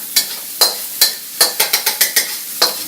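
Garlic and ginger fry in oil in a wok, with a utensil scraping and stirring in quick repeated strokes, about ten sharp bursts over a steady sizzle, close and fairly loud.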